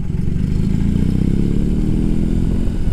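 A BMW R 18 cruiser motorcycle with its large boxer engine idles and revs, a loud, deep, throbbing rumble with a steady low pulse and mechanical clatter, close by and uninterrupted.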